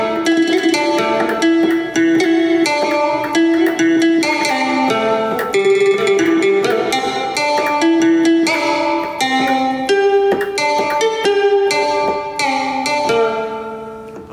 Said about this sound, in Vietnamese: đó là tiếng đàn kìm đó các bạn